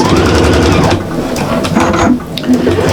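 A home sewing machine stitches a foam-padded shopper bag, its steady mechanical chatter running loud and continuous, easing briefly before picking up again near the end.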